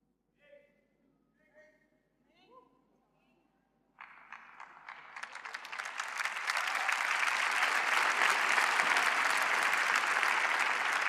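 A congregation at a church sermon bursts into applause after a few spoken words, the clapping starting abruptly, swelling quickly into a loud, dense roar of many hands and holding steady to the end.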